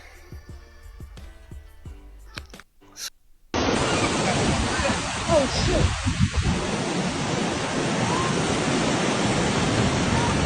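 Massive tidal surge waves crash onto Main Beach on the Gold Coast, a loud broadband roar of surf that bursts in suddenly after quieter moments and holds steady, with voices calling out over it.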